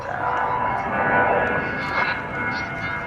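A Qantas airliner on Flight 22 to Melbourne moving out of the gate at DFW Airport in the evening, a steady distant engine rumble and whine that holds even throughout.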